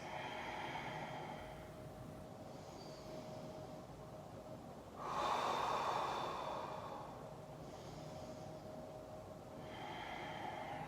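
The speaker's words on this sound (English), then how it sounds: "And take 5 breaths." Slow, deep breaths during a yoga inversion drill, soft airy inhales and exhales with one longer, louder breath in the middle, heard close over a quiet hiss.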